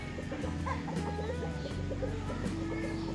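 Chickens cluck around a white-legged gamecock at a rooster seller's yard in Rosario, Batangas, with repeated short clucks over a steady background hum and a few sharper calls.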